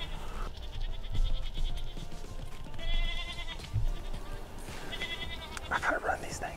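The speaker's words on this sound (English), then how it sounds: "the dang goats wouldn't leave us alone" Several goats bleat repeatedly during a Texas whitetail hunt, their wavering cries coming in bursts over a steady outdoor background with occasional rustling and thumps nearby.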